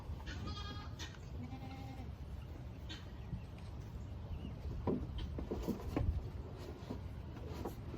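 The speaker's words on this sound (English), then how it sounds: "Goats all around us, Johnny." Goats bleat intermittently at close to middle distance amid faint farmyard background noise, with several short calls scattered through the clip.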